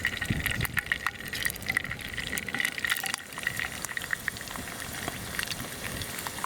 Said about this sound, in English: let them fry up a little bit